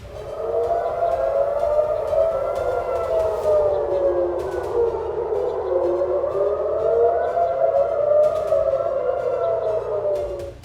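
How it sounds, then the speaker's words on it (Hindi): Air raid sirens wailing over Israeli cities, several rising and falling tones overlapping in slow sweeps, loud and sustained with sharp clicks and a low background rumble. "इजराइल के कई शहरों में सायरन की आवाजें सुनी गई।"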